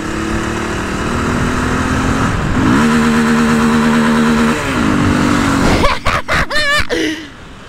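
A Honda CB Twister motorcycle engine idles, then revs up and holds a higher pitch before dropping back, ending with a few sharp throttle blips.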